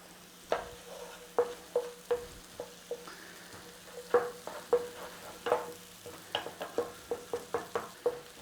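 Onion and garlic sauteing with thyme in a pan for mushroom duxelles, a soft background sizzle broken by a series of sharp spoon taps and stirring knocks.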